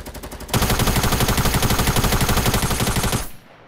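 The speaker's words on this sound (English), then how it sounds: "I'm gonna rapidly shoot." Rapid, sustained automatic assault rifle fire in the Fortnite video game, a loud continuous rattle of closely spaced shots lasting about three seconds before cutting off abruptly, with no talking.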